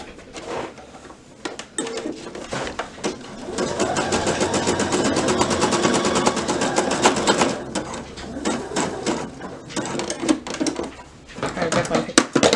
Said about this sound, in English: I'll just go ahead and do it on my sewing machine since we're here